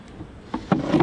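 Honeybees buzz in short, close bursts during a beehive inspection, a few brief droning passes near the microphone over a quiet background with no talking.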